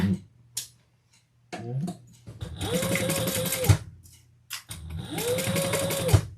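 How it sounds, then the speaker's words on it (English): A sewing machine stitches a handbag seam in two sustained runs of fast, loud mechanical whirring, close up, separated by short pauses and handling clicks, with no talking. "Let's sew down this side."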